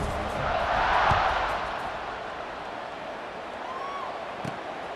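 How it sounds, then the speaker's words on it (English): Stadium crowd in the EA Sports College Football 26 video game, a broad steady roar of many voices swelling early and then holding at a sustained buzz, with no commentary over it. "this crowd is buzzing after that last score"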